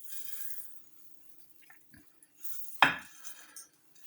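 Dry rice poured into a metal pot for pork steak biryani, a sharp rattling clatter peaking briefly, with faint clinks and scraping of utensils around it in a quiet kitchen.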